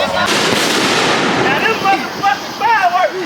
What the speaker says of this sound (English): We outside posted up doing fireworks right now.